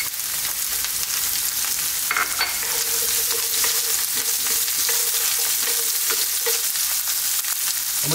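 Onions frying in a hot pan for an eggplant and potato curry give a loud, continuous close-up sizzle, with occasional stirring scrapes and clicks through it.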